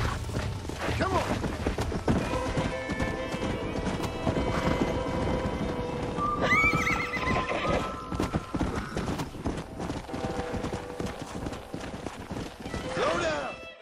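Hooves clip-clop steadily as a horse moves along in the Red Dead Redemption video game, with a neigh partway through, set under game dialogue and background music.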